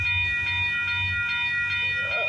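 A CPKC intermodal freight train running from Vancouver to Vaughan Intermodal Terminal rolls past nearby, giving a steady loud low rumble with rhythmic wheel clatter and a constant high tonal squeal, with no voices.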